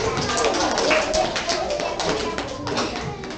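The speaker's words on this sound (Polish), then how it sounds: "Duże brawa dla nich." Audience applause for children at a chamber philharmonic music session, a dense, steady patter of many hands clapping throughout, fairly close and loud.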